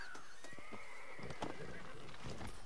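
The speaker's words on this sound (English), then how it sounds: "Here's our little horsey." A horse in the Red Dead Redemption video game whinnies in a short high neigh with clip-clopping hooves and other game ambience around it.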